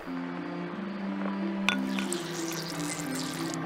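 In a point-and-click adventure game, a magic nut dropped into a glass soaks up all its water, heard as soft wet dripping and squishing over a sustained musical background, with a brief splashy accent midway.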